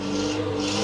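A Datsun 120Y engine holding a steady high rev, a close, loud whirring drone with strong tonal hum lasting under a second.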